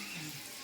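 Edible gum fries in hot ghee in a home kitchen, a steady close hiss and sizzle filling the short moment without a break.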